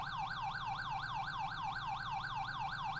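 A secondary police siren from the FiveM video game yelps in a fast, regular up-and-down warble, about four cycles a second, loud and continuous over a low engine hum.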